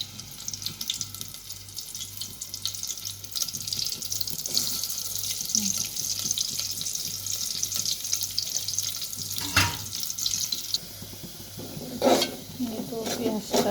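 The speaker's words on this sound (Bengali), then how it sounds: "পেঁয়াজ কুচি আগে ছিল, তেল দিয়ে দিলাম। এখন পেঁয়াজ কুচি দিয়ে দিতেছি।" Chopped onion fries in oil with a steady, bright sizzle that sounds watery, punctuated by a couple of sharper scrapes or clatters toward the end.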